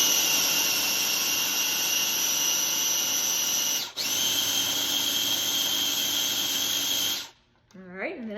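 A blender or food processor spins hummus ingredients with lemon juice in a loud, steady whine, briefly dipping once mid-run before cutting off near the end, after which a voice is heard.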